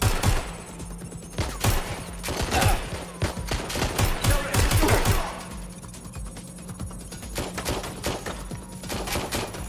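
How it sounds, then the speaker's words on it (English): Rapid bursts of gunfire crackle through a firefight in Watch Dogs Legion, dense volleys and automatic fire close and loud for several seconds before easing into sparser shots over a low background hum. "Shots fired! Getting behind cover! Vectors open fire!"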